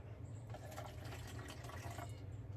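Water poured from a cup onto seed trays, a faint continuous trickle and splash at close range, with no talk over it.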